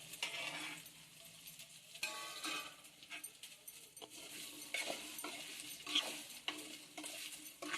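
Taro root pieces being stirred into spiced masala oil in a pan: steady scraping and clattering of a spoon against the metal with a light sizzle underneath, close but fairly quiet, in irregular repeated strokes.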